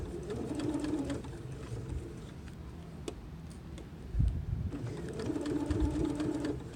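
A sewing machine stitches fabric for a zipper pouch in two close runs of rapid mechanical whirring, separated by a quieter pause with light ticks and thumps.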